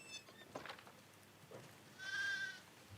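Sheep bleat in the video game The Last of Us Part II, a few faint short calls over quiet ambient noise, with one longer bleat near the end.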